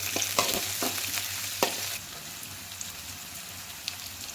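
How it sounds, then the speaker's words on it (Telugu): Onion, garlic and curry leaves fry in hot oil, a dense steady sizzle with sharp stirring scrapes and clicks early on, then a quieter continuous crackle. "ఉల్లిపాయ ముక్కలు వేసుకుందాం వెల్లుల్లిపాయ ముక్కలు వేసుకుందాం కరివేపాకు వేసుకుందాం అన్నీ వేయించుకుందాం"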